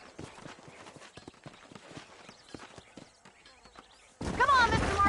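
Horse hooves clip-clop in a rhythmic walking pattern through the Red Dead Redemption video game, steady and moderately close for several seconds, before a sudden loud burst of noise at the end.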